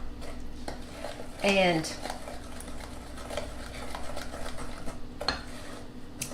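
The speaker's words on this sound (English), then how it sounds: "Now, what I'm going to do is I'm just going to mix this together with my spoon." A spoon stirs oatmeal pie ingredients together in a bowl, soft scraping strokes with a brief louder clink of the spoon, close by and fairly quiet, with a word spoken near the start.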